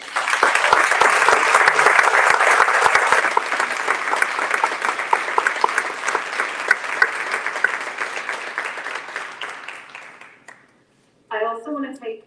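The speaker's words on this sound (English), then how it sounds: "Let's give them a round of applause." An audience at a live 50 Years of WIC event in Pineville, Kentucky gives a long round of applause, dense clapping that gradually thins and fades out before a voice resumes.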